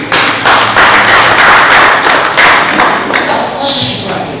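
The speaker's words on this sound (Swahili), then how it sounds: "Pigeni mtoto makofi" A church congregation claps for a child, a loud, continuous burst of many hands lasting several seconds.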